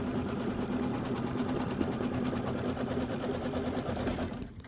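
An embroidery machine runs a tack-down stitch, holding oversized fabric in place on a Kimberbell mini quilt block. It gives a steady, fast, even whirring hum with rapid needle chatter, close and continuous, and cuts off right at the end.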